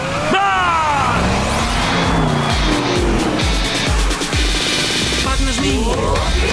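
Cartoon race cars roar off the line at a race start, loud engine revs and whooshing passes layered over bright music and occasional speech throughout.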